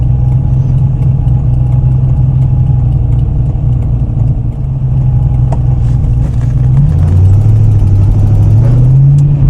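A tuned TVR Chimaera 400 with a blown exhaust gasket idles loudly and steadily close by, its deep throbbing rumble with a faint ticking edge rising slightly in pitch as it revs near the end.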